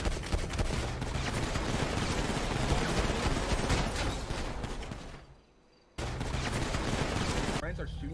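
Gunfire from a roleplay shootout in GTA, several shots in steady bursts with a loud, dense mix, a brief drop-out near the end before the action resumes.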